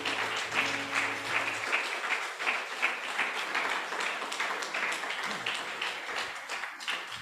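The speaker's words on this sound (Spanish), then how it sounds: "¿Por qué no le das un aplauso al Señor?" A congregation at an evening men's church gathering claps steadily for about seven seconds, a dense, even wash of many hands with no voices over it.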